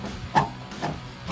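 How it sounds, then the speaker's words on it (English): A rag scrubs old adhesive off the decklid of a 2024-2025 Ford Mustang, giving two short close rubbing swipes over a low background hum. "with my finger I'll just grab the rag, start cleaning it off just like this"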